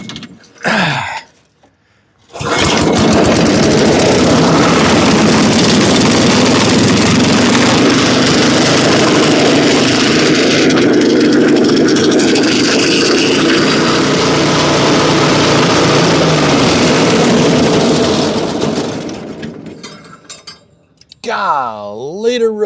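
An old wood chipper that sat for years buried under a house cranks, catches and runs steadily at a loud, rough idle, then cuts off, with a voice briefly heard near the end.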